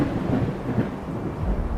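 Thunder rumbles low and heavy over a steady hiss of rain, a short, continuous burst of thunderstorm noise at close range with no voices.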